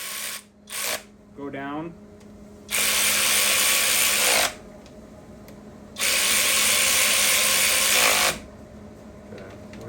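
A ratchet with a 10mm socket works on the fuel rails of an Infiniti G35 during an engine build, giving long bursts of dense clicking ratcheting close up, with someone talking briefly before the strokes.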